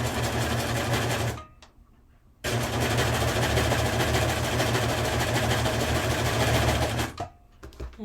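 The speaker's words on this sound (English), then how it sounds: "we're going to run this inseam first on the serger" A serger sewing machine stitching the inseam of a thrifted man's shirt, with loud rapid mechanical whirring in two bursts broken by a short pause, close up with no talking.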